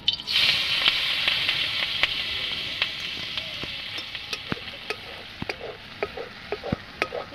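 Prawn heads fry in hot oil in a kadai, a loud bright sizzle at first that calms down while sharp spatula taps and scrapes come at irregular intervals.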